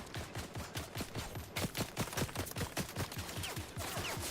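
Rapid bursts of gunfire from the video game Fortnite, a dense string of repeated shots at a steady fast rhythm, loud and continuous for several seconds with no talk over it.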